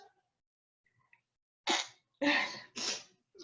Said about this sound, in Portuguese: Eu estou começando a querer espirrar aqui